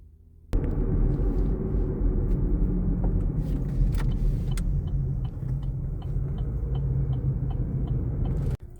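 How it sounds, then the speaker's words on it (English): Car interior during a drive: a continuous low road and engine rumble fills the cabin at moderate level, with a few faint clicks and rattles on top and no talking. "So I'm going to take a drive up north a little bit"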